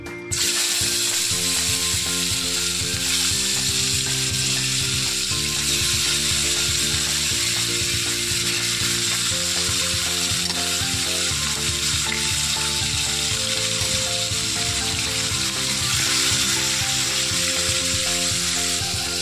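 Pieces of aar fish fry in hot oil with a continuous broad sizzle that lasts the whole stretch, over a steady mechanical, tonal drone.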